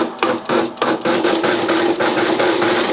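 A blender motor pulsing black bean soup whirs in short, repeated bursts, stopping and restarting every fraction of a second in a choppy rhythm, close and fairly loud.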